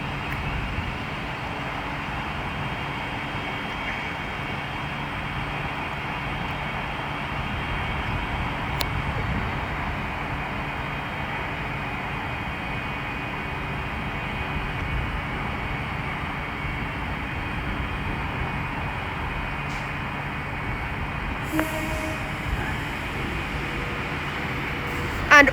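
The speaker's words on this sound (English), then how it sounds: "And behind me now departing is the 1422 London Northwestern Railway service from London Euston to Northampton" London Northwestern Railway train pulling out of Milton Keynes Central: a steady, fairly faint rumble of the departing train under station ambience, with a few brief clicks and a slight rise near the end.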